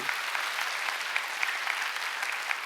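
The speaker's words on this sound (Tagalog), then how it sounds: "bigyan natin ng malakas sa palakpak ang ating Panginoon" A church congregation at an online worship service applauds steadily, a dense and even wash of many hands clapping together at moderate loudness with no talking over it.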